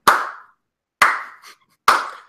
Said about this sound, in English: wondering why I just slow clapped